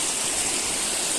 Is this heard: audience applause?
no